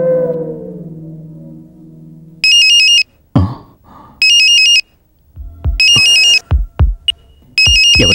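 A phone rings with an incoming call: bursts of an electronic ringtone repeat at a steady pace, loud and near, with brief thuds and other sounds in the gaps between rings.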